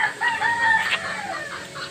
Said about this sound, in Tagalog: May manok sa daanan.